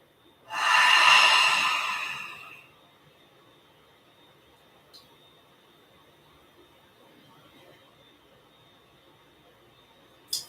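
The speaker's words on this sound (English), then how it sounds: "Focusing again on your inhales and exhales." A single slow, deep breath during gentle yoga is heard up close, a breathy rush lasting about two seconds, followed by near silence.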